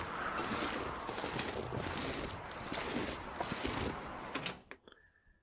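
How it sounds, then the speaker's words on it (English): Wind rushing and gusting across the open landscape of The Long Dark, a broad steady roar that holds for several seconds before dying away to near silence at the end. "It sounds like it's going to get really, really windy really, really soon"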